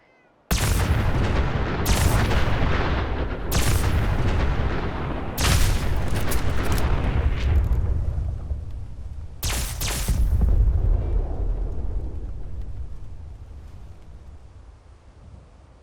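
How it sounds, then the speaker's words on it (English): Loud Fallout 4 mod blasts: a string of sharp laser energy bursts and booming explosions igniting a thermonuclear blast, then a long rumbling roar that slowly fades. "fires with a powerful laser beam that ignites a small thermonuclear explosion"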